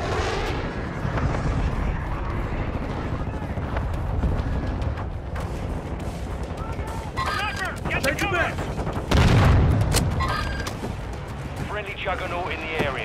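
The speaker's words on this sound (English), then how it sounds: "Friendly cruise missile approaching target." Heavy battlefield din from Call of Duty, with rumbling explosions, booming impacts and gunfire from a cruise missile strike, one large blast standing out midway, while game voices talk over the chaos.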